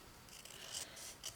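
Scissors snip through paper at a craft table for a sewing journal, two or three short, faint crisp cuts close by with quiet rustling between.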